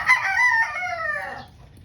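One close, loud crow from a five-month-old White Kelso brood stag, a gamefowl rooster, holds for about a second and a half and then breaks off into quiet.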